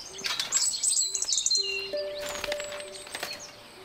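Bright, high chirps and tweets from a bird in the botanical puzzle game Botany Manor, several quick calls close by with light chime-like tones between them, no talking.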